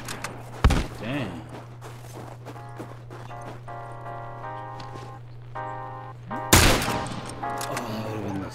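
Rifle gunfire in The Last of Us Factions multiplayer, two loud sharp shots spaced several seconds apart over a steady hum and background game sounds.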